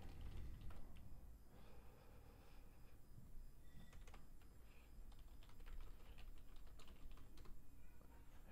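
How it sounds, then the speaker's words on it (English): Steady typing on a computer keyboard, a quick run of soft clicks over a constant background hum, with no talking. "if you do hear typing, you're not crazy"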